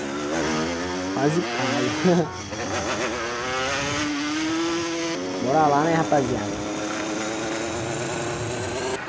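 Stolen motorcycle in GTA San Andreas, its high, buzzy engine revving up and down in repeated wavering surges, close and loud, with someone talking over it throughout.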